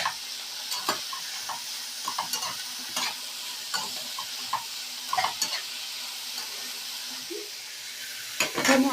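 Onion, capsicum, green chili, tomato and peanuts stir-fried together in a pan for a spicy puffed rice dish; a soft steady sizzle under repeated scraping stirs of a spatula, close and fairly quiet.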